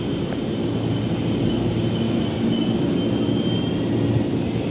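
A JR 205 series commuter train at Mangga Besar elevated station in Jakarta, a steady loud rumble with a faint high whine sustained throughout, no voices.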